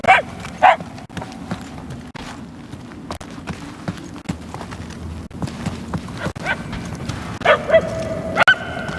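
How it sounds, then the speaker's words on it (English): In the video game Marvel's Guardians of the Galaxy, a dog barks and yips in short, repeated bursts, mostly distant and faint, with a few louder yaps near the start and end over a low steady game ambience. "We are no closer to the source of the barking."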